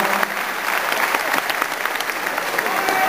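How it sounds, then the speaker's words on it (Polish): A crowd at Górnik Zabrze's preseason team presentation gives sustained applause to fitness coach Marek Kostrzewa. The clapping is dense and steady and fills the space. "wielkie brawa dla niego."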